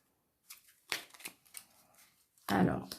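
A deck of tarot-style playing cards being cut by hand, with soft close papery slaps and riffling bursts ending in a louder flurry of card handling.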